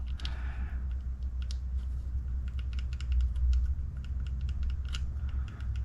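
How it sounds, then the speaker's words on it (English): An RC car differential from an HB Racing E819RS build is turned by hand while its gears mesh, giving a run of small, close, sharp clicks at an uneven pace over a low steady hum. "You hear that click, click, click, click, click? That's the mesh you're feeling."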